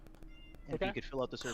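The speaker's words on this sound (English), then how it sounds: "That is my cat." A pet cat meows a few short times in a quiet room, then a voice talks over it.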